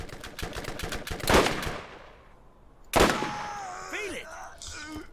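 Gunfire in the video game Borderlands: a stretch of rapid repeated shots, then one loud blast after a short lull, followed by whistling in-game effects.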